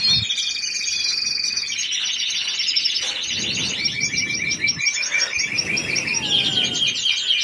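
A pet bird in breeding condition sings a continuous, busy run of high chirps, trills and whistled notes, close and loud, with no talking.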